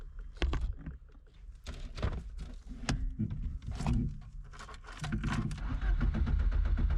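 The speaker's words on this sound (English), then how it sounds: "The engine even started right away." An old, abandoned sports car in Fortnite cranks and fires up right away, a series of loud, sharp bursts settling into a steady low engine rumble that grows fuller toward the end.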